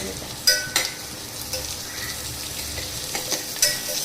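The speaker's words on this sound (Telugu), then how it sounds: "ఉల్లిగడ్డలు వేగుతున్నాయి కదా" Onions frying in a pan for a Telugu bottle gourd stew with turmeric and ginger, a steady soft sizzle broken by several sharp clinks of a spoon stirring against the pan, close up.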